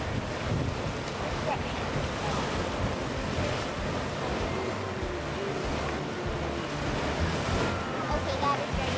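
Water splashes and churns steadily amid rushing wind, a continuous loud wash of surf-like noise with no clear pauses.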